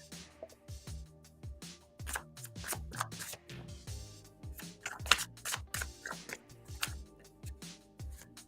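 Tarot cards riffle and snap in quick bursts, a close, crisp shuffling repeated several times with brief pauses between.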